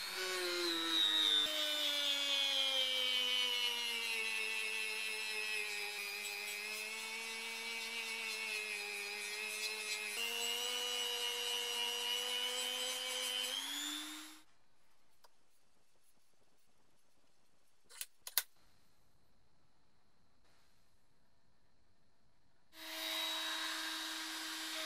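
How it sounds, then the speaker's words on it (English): Roll-up prep pads scrub rust off an old Record 24-inch Stilson steel monkey wrench, a steady whining grind for about fourteen seconds, then near silence with a brief click before the grinding resumes at the end. "I'm using a mixture of old and new roll-up prep pads to remove it."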